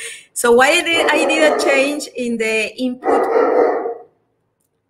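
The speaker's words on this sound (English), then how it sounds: "sorry, that's my dog." A pet dog barks a few times in a home office, the barks mixed closely with a man's ongoing speech during a technical presentation.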